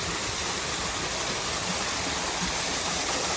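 A 33-foot waterfall in a restaurant backyard pours steadily, a dense, even broadband rush with no pauses, close and fairly loud throughout.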